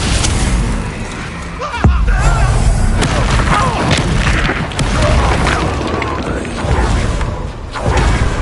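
A Confringo fire spell goes off in a Hogwarts video game as a loud deep boom, followed by continuous rumbling and crackling blast noise with a few sharper impacts.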